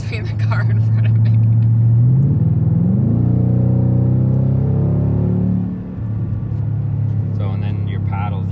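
A 2020 Ford Mustang GT in track mode with traction control off: a loud, close engine drone climbs steadily in pitch as the car accelerates, then drops back with a downshift and keeps rumbling.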